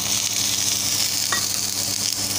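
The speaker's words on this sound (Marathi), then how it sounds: "कांदा लाल होईपर्यंत आपण भाजायचा आहे" Chopped onion sizzles in oil in a pan, giving a bright, steady, close hiss with a brief clink partway through and no voices.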